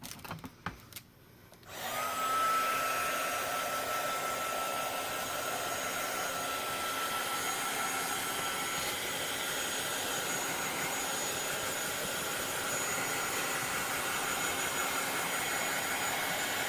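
A handheld dryer blows a steady, loud whine and airy rush across chalk ink on a fall banner, running without a break after a brief clatter at the start.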